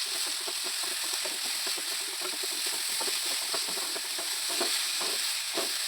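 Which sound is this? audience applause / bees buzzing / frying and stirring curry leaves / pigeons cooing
frying and stirring curry leaves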